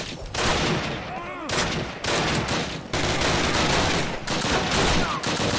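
Dense, loud bursts of gunfire fill Call of Duty (2003) during the Operation Overlord mission: rapid automatic fire with near and distant shots crowding together, broken by short pauses.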